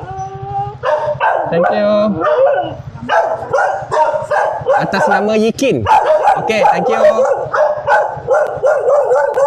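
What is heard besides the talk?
angry dog barking at a gate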